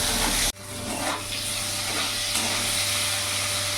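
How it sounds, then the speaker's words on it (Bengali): Potatoes seasoned with salt and turmeric fry in hot oil until browned, giving a steady, close, fairly loud sizzling hiss that drops out for an instant near the start and then runs on evenly without talk. "আলুর মধ্যে সামান্য লবণ, সামান্য হলুদ গুঁড়ো দিয়ে দেবো। আলুটাকে লাল লাল করে ভেজে নেব।"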